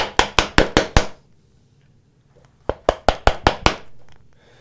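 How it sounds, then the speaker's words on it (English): A chisel is struck into wood clamped in a vise to chop a stop cut along a line, while a turning saw is being made. There are two loud bursts of five or six sharp, evenly spaced mallet blows, separated by a quiet pause. "And I'm just going to chop in"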